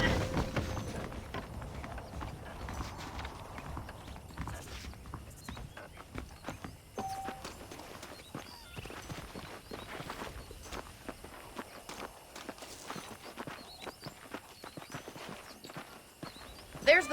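Horse hooves clip-clop steadily amid a busy mix of Red Dead Redemption game sounds, with muffled voices in the background.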